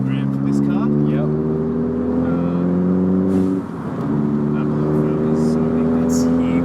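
A modified car engine idling loud and close, a steady rumbling drone with a brief dip partway through before settling back to an even, throaty idle.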